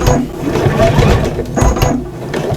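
A sewing machine stitches a storage pocket, its needle running in a steady, loud mechanical chatter with a brief slowdown midway, close up and alone.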